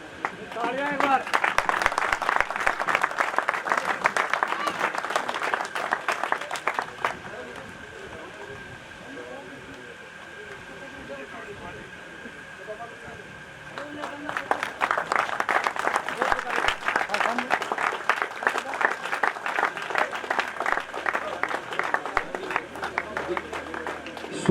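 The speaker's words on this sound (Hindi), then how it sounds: "तालियां एक बार।" Dense crowd clapping at a gathering rises in two long bursts, roughly seven and ten seconds each, separated by a quieter stretch of murmuring voices and stray claps.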